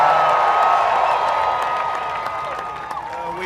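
A large rally crowd in Iowa cheers and applauds in a steady, loud wash of noise with no spoken words, easing slightly toward the end.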